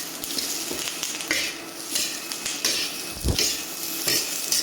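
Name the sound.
mixed peppers charring in a wok on an induction burner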